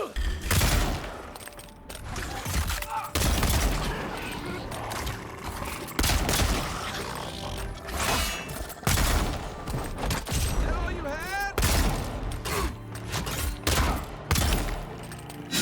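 Rapid pistol fire in the fantasy video game Avowed, with sharp shots coming in quick bursts and separate cracks amid thuds and impacts, sitting under a player's voice talking over the action.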